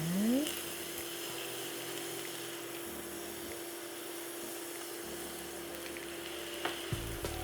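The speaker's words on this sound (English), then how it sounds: "throw our butter in there and let this melt before we go ahead and toss our rice in with it" Butter sizzles steadily in a hot pan ahead of fried rice, a continuous close frying hiss with a few soft stirring clatters near the start and end.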